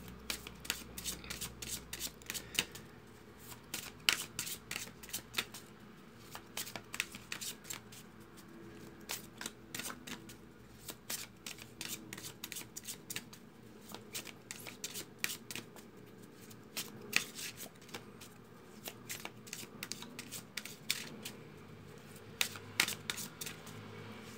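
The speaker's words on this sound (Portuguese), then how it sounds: "dei uma embaralhada nas cartas, cortei" A deck of tarot cards being shuffled and cut, giving repeated crisp riffling bursts of card edges at a steady rhythm, close and fairly quiet, with no talking over it.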